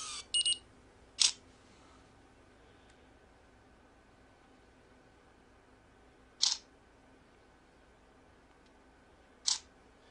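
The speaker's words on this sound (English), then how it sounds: "you can hear that artificial focusing sound and beep when you achieve focus" A phone camera's artificial autofocus effect, a quiet mechanical whir followed by short bright confirmation beeps, sounds as a brief double chirp at first, then three more isolated beeps spaced several seconds apart against a faint hiss.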